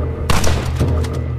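Rifle and cannon gunfire in Red Dead Redemption multiplayer, a burst of loud overlapping shots and booms erupting after a brief lull and rolling on in a dense, continuous volley.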